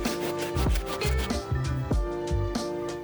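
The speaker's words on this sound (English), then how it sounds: "We're gonna be moving on to this outsole using the stiff bristle brush." Stiff bristle brush scrubbing the rubber outsole of a suede Nike SB Dunk, a close, steady run of rough rhythmic strokes with no voices.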